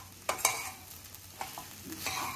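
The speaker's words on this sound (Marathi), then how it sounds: "साबुदाणे टाकल्यानंतर सुरुवातीला गॅस मोठा ठेवायचा आणि चांगली हलवून घ्यायची" Sabudana khichdi being stirred in a hot pan, with a few scraping spoon strokes and soft sizzling over a quiet kitchen background.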